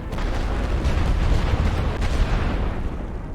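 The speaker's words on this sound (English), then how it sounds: "Get that barrage going" A rolling artillery barrage in The Great War: Western Front, continuous loud low rumbling booms and thuds blending into a steady roar, with no voices.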